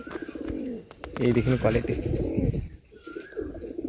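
Tournament racing pigeons coo softly in a loft in Amta, Howrah, their low throaty murmurs running beneath someone speaking nearby.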